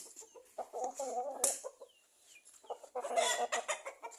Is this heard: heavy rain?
no